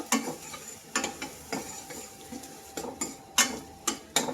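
Coconut masala paste sautéed in a pan for a spicy drumstick amti, with a spoon scraping and clinking against the pan in steady repeated strokes over a soft sizzle, close and moderately loud.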